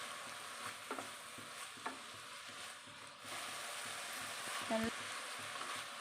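Carrot, beans and cabbage stir-fried in a pan give a steady soft sizzle, broken by a few light clinks and scrapes of the spatula, with a brief louder scrape near the end.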